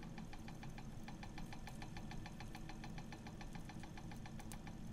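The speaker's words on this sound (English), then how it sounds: "the fan just started spinning." A VESTA self-powered indoor heater's fan spins with a faint, steady mechanical whir and a fast, even ticking pulse throughout, heard close to a microphone with no voices.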